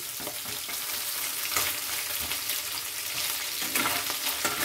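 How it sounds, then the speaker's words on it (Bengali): Small pieces of fish head fry in hot oil until browned, for a Bengali pui shak dish, giving a steady, close crackling sizzle with brief stirring sounds. "আরও ছোট ছোট টুকরো করে লাল লাল করে ভেজে নিচ্ছি।"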